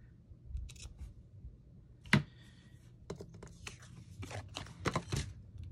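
Scissors cut a strip of lace in half for a paper-craft tag: a few crisp, close snips and clicks over a quiet background, with one sharper snip standing out.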